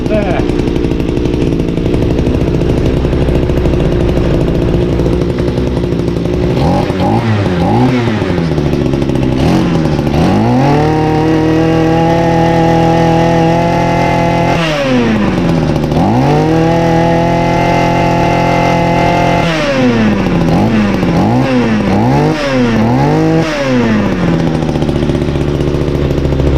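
Small two-stroke engine on a Stiga strimmer/hedgecutter with a replaced carburettor, idling after an idle-screw adjustment and then revved repeatedly in rising and falling bursts, loud and close, with voices heard in the background.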